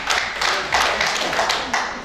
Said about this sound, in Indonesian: tepuk tangan untuk PSK dan kasih